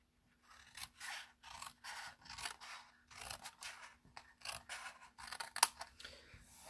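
Scissors trimming the edges of designer paper, giving a run of quiet, close, crisp cutting snips at an uneven rhythm with short gaps between strokes.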